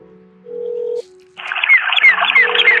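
A mobile phone ringback tone sounds during a call to a companion on a mountain ginseng hunt, with steady beeping pulses separated by a pause. A busier chirping layer rises over the second half.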